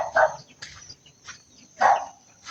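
Dogs bark in a few sharp bursts at moderate distance, two louder barks separated by quieter yips, with faint outdoor ambience between.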